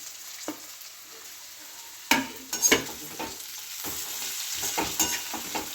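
Red and green capsicum stir-fried for Kolkata restaurant-style chicken chow mein sizzle steadily while a spatula scrapes the pan in repeated, close, sharp strokes.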